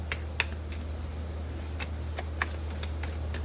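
Tarot cards shuffled for a reading, with soft papery riffles and scattered sharp flicks over a steady low hum; no one talks.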